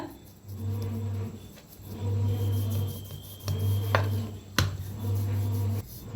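Shankarpali dough gets rolled out with a rolling pin on a board: repeated rhythmic rubbing passes with soft rumbling, broken by a few sharp clicks and taps, close and fairly loud, with no talking.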